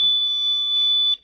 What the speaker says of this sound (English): That's our MMC alarm that comes on.